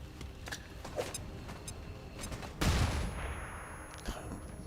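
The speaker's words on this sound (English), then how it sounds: "Flashbang a lot of them." Flashbang grenade exploding in XCOM 2, a single sharp blast about halfway through, preceded by faint clicks and scattered shots and followed by a ringing tail and quieter game ambience.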